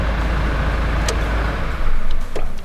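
A modern Toyota Land Cruiser diesel engine idles loud and close inside a room, then gets two short revs near the end that swell the low rumble.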